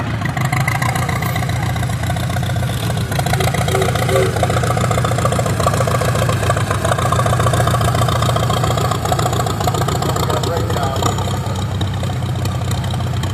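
A 1961 International tractor engine running in a threshing show parade, a steady, close mechanical chug with a knocking idle that holds for the whole stretch.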